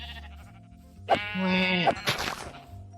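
A Minecraft sheep bleats once in a clear, wavering, mid-pitched call. A faint game background sits underneath, and a soft click comes before and after.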